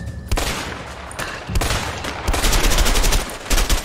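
Bursts of gunfire in the video game A Way Out, with loud, dense volleys that break off briefly and then return in rapid, overlapping shots.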